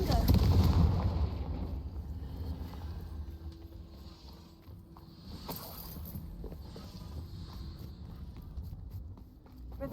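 A Confringo fire spell bursts with a loud blast at the very start in Hogwarts Legacy, then fades into a quieter rumbling tail with a few faint knocks.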